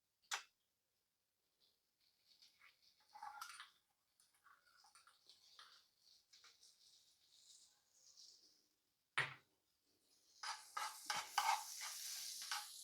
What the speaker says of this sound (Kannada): ಗಾರ್ಲಿಕ್ ಸ್ವಲ್ಪ ಫ್ರೈ ಆಗ್ತಿದ್ದಂಗೆ